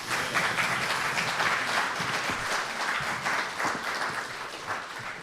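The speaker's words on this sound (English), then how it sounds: "How about one more round of applause?" A congregation at a church service gives a round of applause, a full, sustained clapping that stays even throughout, fairly distant in a large room.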